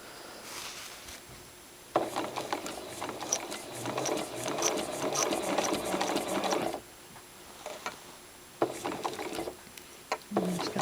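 A sewing machine does free motion quilting, stitching curved crosshatching in a triangle with a ruler. One long whirring run is followed by a few shorter stop-start bursts, all close and mechanical.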